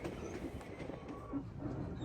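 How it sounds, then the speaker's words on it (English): A Highlander heritage diesel train running on rails between Mount Barker and Strathalbyn in the Adelaide Hills, giving a steady rumbling roll with faint wheel clatter and a brief high squeal, heard fairly close and continuous, with no voices. "This train travels between Mount Barker and Strathalbyn in the Adelaide Hills."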